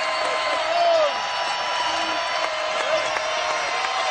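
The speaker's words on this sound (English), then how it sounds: "Crowd on their feet, getting loud." A women's college basketball crowd in an arena, Iowa State against West Virginia, roars and cheers loudly in a steady, sustained wall of noise, with whoops rising over it and talk mixed in.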